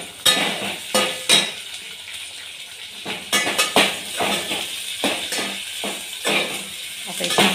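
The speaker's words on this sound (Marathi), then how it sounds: "कांदा टाकते, मिरची लागली तडतड करायला. लई चबर करायला लागली मिरची." Small lavangi chillies and onion crackle and sizzle in hot oil while cooking chicken biryani, with sharp irregular pops over a steady fry and occasional stirring clinks of a spoon against the pan.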